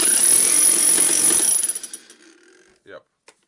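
A repaired electric hammer drill runs in hammer mode, a loud rapid mechanical rattle that winds down after about a second and a half, followed by a couple of short clicks.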